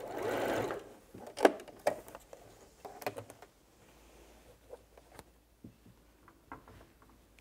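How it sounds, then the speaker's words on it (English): A sewing machine runs in a short burst to put a quick stitch in fabric for a BBQ roll mat, followed by light ticking and handling sounds at close range with no talk. "I'm just going to put a quick stitch to hold that in place so I can take the pin out."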